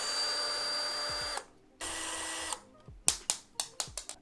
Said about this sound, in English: To open this shell we have to remove those 4 screws.